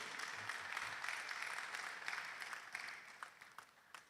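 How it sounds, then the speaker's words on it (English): Applause for a guest at a film festival session in Nigeria, a continuous patter of many hands clapping heard faintly from a distance, steady for several seconds. "Let's give her the Nigerian applause."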